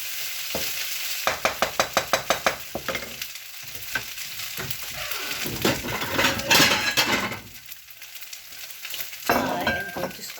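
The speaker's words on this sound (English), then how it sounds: "let me scoop up my rice" Shrimp and asparagus fried rice is scooped and stirred in a hot sizzling pan, a quick run of rhythmic metal taps followed by scraping, clinking and steady frying hiss close by.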